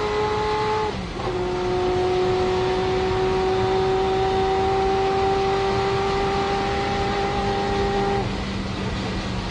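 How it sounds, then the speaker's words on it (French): Onboard a Ferrari F40 LM race car at the 1995 24 Hours of Le Mans, the engine holds a loud, steady high-pitched drone after a brief gear-change dip near the start, with constant wind and road roar. "nous voici à bord de la voiture de Michel Ferté, la Ferrari F40 LM"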